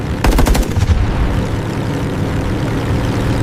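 Rapid burst of Wildcat fighter machine-gun fire, a loud close stutter of roughly a dozen shots over half a second, then a steady droning engine roar carrying on alone.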